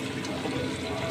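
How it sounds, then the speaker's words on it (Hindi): Cooking oil poured into a pan of achari mutton karahi whose liquid has cooked off, a steady, close liquid pour and sizzle lasting about a second with no talk. "अब इसमें ऑयल हम डाल रहे हैं,"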